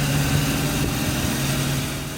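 A steady low Honda CB750 Four motorcycle engine idling and rumbling at slow revs, continuous and fairly loud, with no voices.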